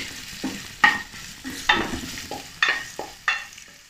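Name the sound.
chopped garlic and ginger slices sautéing in a pan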